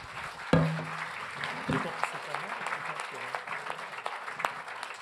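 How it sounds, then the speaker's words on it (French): An audience at a debate evening claps warmly, a steady close bed of applause lasting throughout, with a voice briefly heard over it near the start. "Vous pouvez l'applaudir très chaleureusement."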